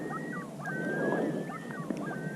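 Geese honk repeatedly in a scattered, overlapping chorus at close to moderate distance, heard alongside a steady outdoor background at a Utah reservoir during trout fishing.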